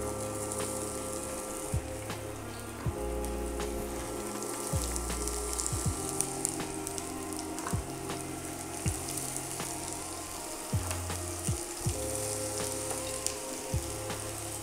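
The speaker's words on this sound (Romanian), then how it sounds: "Uleiul e gata, punem ceapa." Onions sizzle and crackle steadily in hot oil in a home kitchen pan, a loud, continuous frying hiss with occasional pops and stirring sounds over a low hum.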